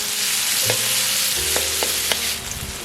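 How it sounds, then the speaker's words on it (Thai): Pounded yellow chili and garlic stir-fried in a pan for a pork-sausage dish, giving a steady, close sizzle with several sharp spatula scrapes and taps cutting through; no voices. "ใส่ลงไปเลยครับ ผัดให้หอมก่อนนะครับ"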